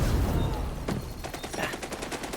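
Automated turret in the xDefiant shooter game firing at an enemy, a rapid stuttering burst of gunfire in the second half following a single earlier shot, loud within the game mix.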